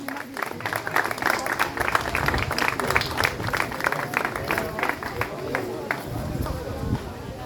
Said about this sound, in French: Vous pouvez l'applaudir, lève-la Steven.